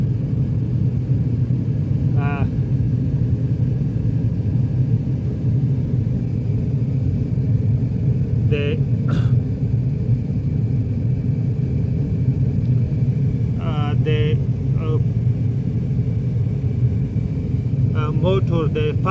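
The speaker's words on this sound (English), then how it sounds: "I have increased the speed of the fan, increase to a full speed" A Volvo XC60 heater blower fan motor, which is spinning too slowly, runs at full speed as a steady low rumbling drone throughout, with brief faint clicks and a voice talking over it.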